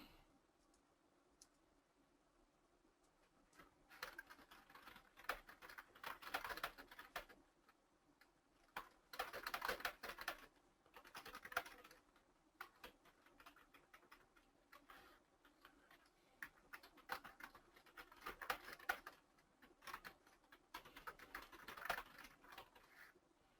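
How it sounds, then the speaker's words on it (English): Someone types a note on a computer keyboard, soft irregular clusters of key clicks in bursts separated by pauses, close and quiet, with no talk. "I'll type it."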